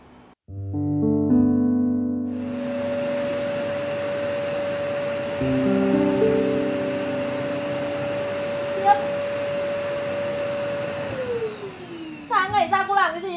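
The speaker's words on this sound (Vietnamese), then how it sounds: "tại vì cái máy hút bụi này nó kêu to quá" A vacuum cleaner drones loudly and steadily indoors for most of the clip, a constant mechanical whine that starts abruptly after a low hum and cuts off near the end, followed by brief talking.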